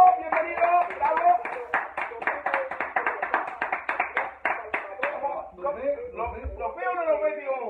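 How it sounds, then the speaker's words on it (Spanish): An audience claps for tío Hugo on a Spanish-language TV show with fast, rhythmic handclaps mixed with loud voices. The clapping then fades as talking takes over. "démosle un aplauso al tío Hugo"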